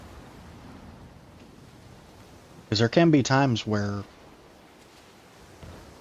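Storm waves surge around a sailing ship in Skull and Bones, a steady low roar of wind and surf running throughout, with someone briefly talking over it midway.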